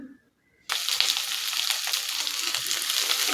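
Cinnamon and two bay leaves hitting hot oil in a kadhai, a sudden loud sizzle that starts after a brief quiet moment and keeps crackling steadily close by.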